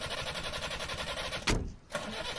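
A vehicle engine cranks and catches in a sudden loud burst midway, set against a steady pulsing rumble that briefly dips and then resumes.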